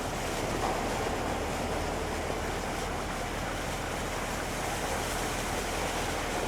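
Floodwater rushes across submerged fields and roads in rural Punjab, a steady, broad, roaring wash of moving water with no voices over it.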